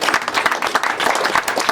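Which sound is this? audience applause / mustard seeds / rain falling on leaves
audience applause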